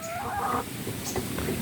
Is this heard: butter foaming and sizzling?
no